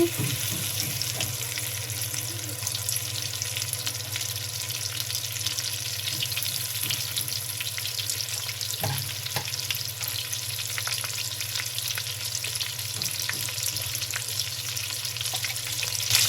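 Prawns fry in hot oil in a pan, giving a steady close sizzle and crackle that runs throughout, with a few faint clinks and stirring sounds.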